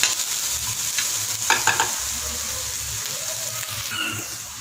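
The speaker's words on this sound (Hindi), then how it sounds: "प्याज को 1 से 2 मिनट तक भूनूंगी।" Chopped onion sizzles steadily in a hot pan, close and loud, while a spoon stirs and scrapes through it in a few quick strokes.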